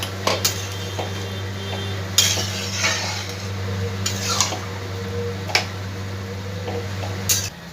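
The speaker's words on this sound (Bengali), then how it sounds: "ভালো করে মশলার সাথে ছোলাগুলো আমি মিশিয়ে দেবো" Chickpeas being mixed with spices and a little water in a pan, a spoon clinking and scraping against the metal at irregular intervals over a low steady hum, close and unhurried.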